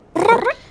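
A human voice imitates a cat's meow for a Miqo'te character from Final Fantasy XIV, a single short, close mewing sound.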